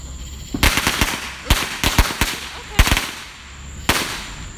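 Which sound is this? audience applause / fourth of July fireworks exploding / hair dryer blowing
fourth of July fireworks exploding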